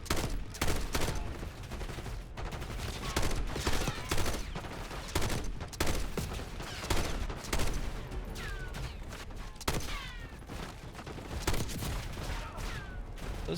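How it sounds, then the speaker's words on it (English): Rapid bursts of video game gunfire rattle out repeatedly as enemies are shot, dense volleys and single cracks overlapping with impact sounds, loud and close, with occasional talk underneath. "I'm shooting them, they're falling over."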